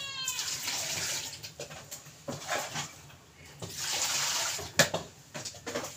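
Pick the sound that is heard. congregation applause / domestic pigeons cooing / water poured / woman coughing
water poured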